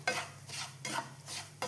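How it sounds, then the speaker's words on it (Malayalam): Semolina (rava) stirred and roasted in ghee in a pan over a low flame for a mango sweet, heard as four rhythmic scraping strokes of the spoon, close and fairly loud, with no talking. "ഈ നെയ്യിലേക്കാണ് കുറച്ച് റവ ഇട്ട് കൊടുക്കുന്നത്"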